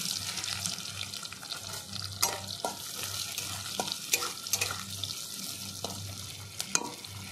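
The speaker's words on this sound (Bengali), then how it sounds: "এই তেলের উপরে দিয়ে দেব কালো জিরে" Black cumin seeds and large chunks of onion sizzle and crackle in hot oil for a puti fish curry, with steady frying and stirring scrapes close by and no voices.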